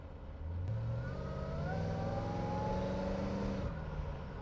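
A 1978 Pontiac Trans Am's engine pulls hard under acceleration, its tone rising smoothly through a steady drone, fairly faint and uninterrupted, with no voices.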